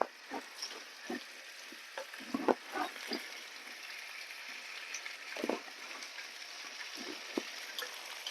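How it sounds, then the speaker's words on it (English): Steady sizzling of chicken breast frying in a hot pan, with soft crackles and occasional louder pops throughout. "you can hear this brrr, nice sizzling, then your pan is ready"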